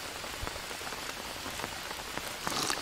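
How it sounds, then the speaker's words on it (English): Steady rain falls in the survival video game Green Hell, a dense even hiss of drops on surfaces with a few louder pattering hits, and no voices. "it's been raining since I loaded up the game"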